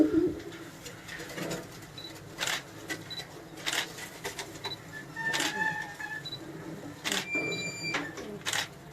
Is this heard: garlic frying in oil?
no